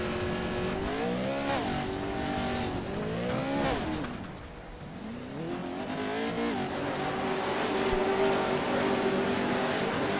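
Pro trucks racing laps at Wild West Motorsports Park, loud engines roaring and revving as the trucks pass, the pitch rising and falling with gear changes, and a continuous race din throughout.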